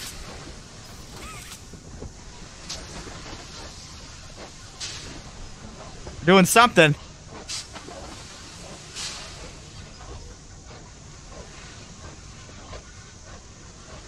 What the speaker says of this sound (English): I don't like this train.